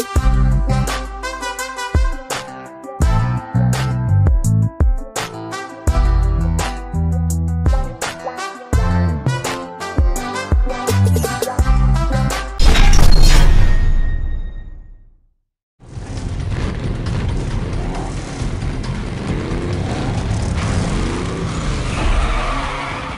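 Racing action from Need for Speed Most Wanted, an open-world PC racing game: loud engine roars and skidding tires in quick bursts, a brief dropout, then a sustained dense rush of engine and road noise.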